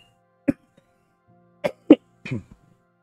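Several separate coughs, sharp and close, spaced out across a quiet background, the last ones coming in a quick rough pair.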